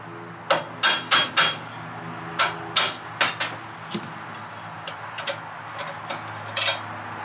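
Light metal taps knock a pin out of a NEMO adjustable gas block knob, a close series of sharp, clicky strikes in small irregular bursts, some quick doubles and triples, alone without talk.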